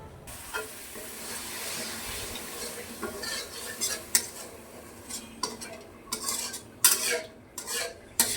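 Shrimp sizzle in a pan seasoned with a little ground cumin and salt while a utensil stirs and scrapes. Metallic clinks come in irregular bursts over a steady frying hiss, close up.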